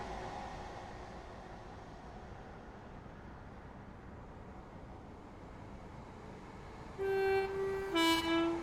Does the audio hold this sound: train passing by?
yes